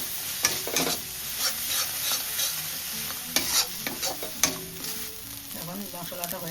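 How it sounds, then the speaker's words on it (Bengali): Turmeric, chili powder and salt stirred in a pan for a Bengali fish curry, with repeated spatula scrapes and taps over a steady sizzle, close and continuous with no talking. "ভালো করে লাড়াচাড়া করে নিলাম।"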